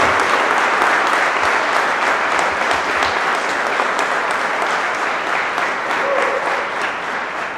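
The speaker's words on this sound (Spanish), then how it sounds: "dale el aplauso al Señor" A church congregation at a Spanish-language worship service applauds continuously and loudly throughout, a dense, steady wash of many hands clapping that fades slightly toward the end.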